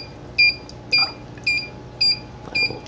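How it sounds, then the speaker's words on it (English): Alarm on a Robo-Tank auto top-off system for an aquarium: a steady series of five short, high-pitched electronic beeps spaced about half a second apart, fairly close over a low background hum. "Now our alarm's going."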